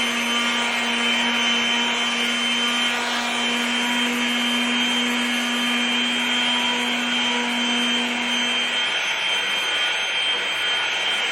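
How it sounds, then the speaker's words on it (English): A power sander or polisher works over an Aurora topcoat finish, producing a steady, loud motor whine with a sustained hum that drops away near the end while the abrasive hiss continues, with no talk. "Now when we are polishing,"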